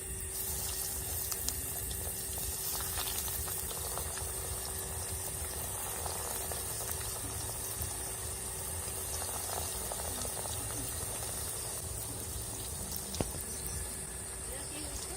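Green banana pakoras frying in hot white oil, a steady, fine crackling and bubbling sizzle that continues evenly throughout at moderate level, with a faint constant hum behind it.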